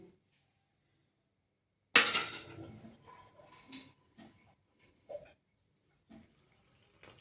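Warm water trickles and splashes in short bursts into maize flour in a bowl as dough for makai no rotlo is mixed, with a few soft clinks between pours, close and fairly quiet.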